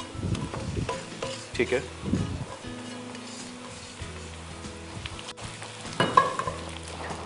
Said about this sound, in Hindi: इसमें जो मेरा कीमा मैंने ऑलरेडी भून लिया था वो शामिल कर रहा हूँ